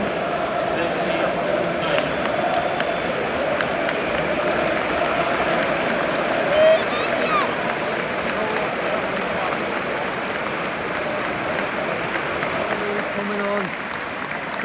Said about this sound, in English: Good round of applause from the United fans.